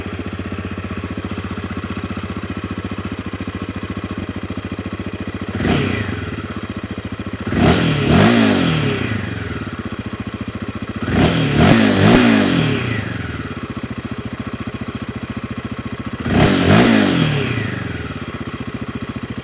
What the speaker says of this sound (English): now let's take a look at how the exhaust sounds